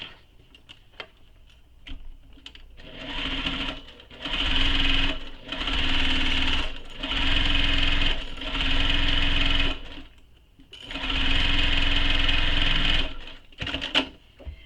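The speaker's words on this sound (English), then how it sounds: "So we're going to stitch along that edge with the seam allowance given in the pattern." A domestic sewing machine runs along the raw edge of a tote bag in several sustained bursts, each lasting a second or two, with short pauses and light handling clicks between them.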